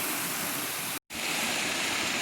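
Small cascading waterfalls on a hillside stream along the Zoar Trail in Paugussett State Park, Connecticut, pour into a river, making a steady, dense, broadband rush that is loud and continuous apart from one brief dropout near the middle.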